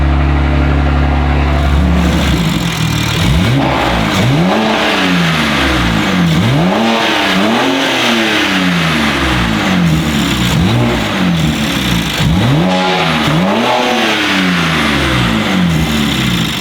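A BMW G87 M2 is revved hard and loud, starting from idle and then sweeping up and down through repeated rising and falling blips, close and dominant throughout.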